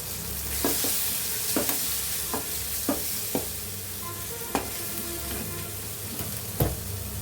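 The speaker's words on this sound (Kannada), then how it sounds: "ಇದನ್ನು ಸ್ವಲ್ಪ ಫ್ರೈ ಮಾಡ್ಕೊಳ್ಳೋಣ" Egg kottu parotta fries with chilli powder and garam masala, a constant close sizzle broken by regular sharp spatula knocks and scrapes against the pan, with no one talking.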